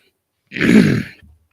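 A person clears their throat once, a single close, gravelly burst lasting under a second, followed by a soft low rumble as it trails off in an otherwise quiet room.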